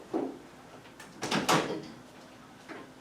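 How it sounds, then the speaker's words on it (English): A classroom door is pulled open with a soft knock, then a louder clattering rattle of the handle and latch in the middle, followed by a faint thud near the end, with no talking. "can you open the door quickly?"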